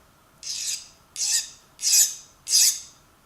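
Four short, harsh rasping scrapes, evenly spaced about half a second apart, as a file or hard edge is drawn across hardened ratchet pawls to test their hardness; close and bright, with no speech.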